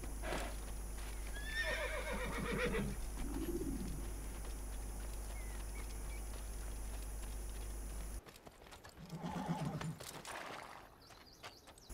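A horse in the Assassin's Creed video game, set around Jerusalem and Acre, gives a loud neigh. Hoof clip-clops and pigeons cooing follow, and there is a brief second whinny after a cut.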